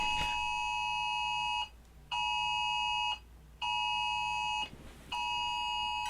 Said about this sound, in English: You're just gonna get an alert on your phone.